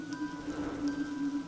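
Steady rain falls over a garden, a continuous close patter of drops on surfaces with a faint steady tone running underneath, no voices.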